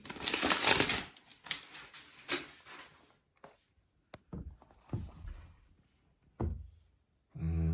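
Plastic wrapping peeled off a MacBook Air M1 box gives scattered crinkles and sharp tearing bursts, separated by short quiet gaps, close and fairly soft with no talking.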